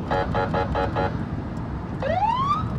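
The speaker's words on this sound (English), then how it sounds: "We're in the back seat of a Detroit police car, speeding to an active crime scene." A Detroit police car siren wails loudly from inside the speeding cruiser, a rapid pulsing yelp of five bursts followed by a rising wail, over steady road and engine noise.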